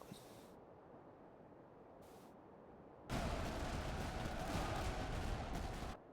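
Musket volleys and artillery fire in the Master of Command battle game, a dense crackling roar of massed gunfire that erupts suddenly and holds for about three seconds, following quieter bursts, with no talk.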